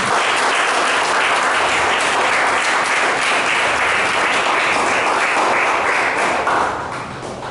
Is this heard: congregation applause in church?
yes